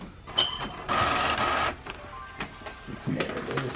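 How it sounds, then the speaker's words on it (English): A desktop printer printing a shipping label, with short mechanical whirs and a longer feeding burst, then clicking and rolling as the label comes out, close and fairly loud. "Click print, and I let the printer do its thing."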